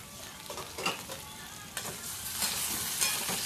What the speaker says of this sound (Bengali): এই একত্রে এগুলোকে একটু ঢাকা চাপা দিয়ে বন্ধুরা ভেজে নিতে হবে